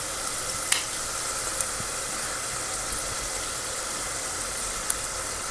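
Bay leaves and a cinnamon stick sizzle steadily in hot oil for home-style chicken pulao, a soft continuous frying hiss with a couple of faint clicks, close and without talk.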